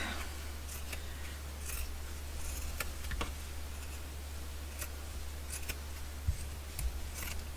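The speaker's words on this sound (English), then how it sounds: "I think I will cut maybe just two strips for now." Scissors cutting patchy fabric into strips: sparse, faint snips and ticks, close up, over a steady low hum.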